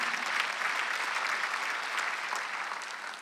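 Sustained applause from a Korean church congregation at Sunday worship, a dense uniform rattle of many hands that holds steady and then tapers slightly toward the end, with no talking above it.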